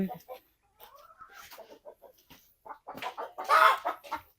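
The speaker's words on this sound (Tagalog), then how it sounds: "Ayan yung kulungan ng manok." Chickens cluck from a coop on a farm, scattered calls rising to a louder burst near the end, with people talking over them.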